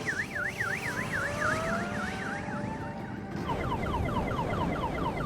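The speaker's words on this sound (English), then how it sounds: "it was a car alarm." Car-alarm style warning noise fitted to an electric race motorcycle, a loud warbling siren that switches to a faster repeating chirp pattern partway through, over background road and engine noise.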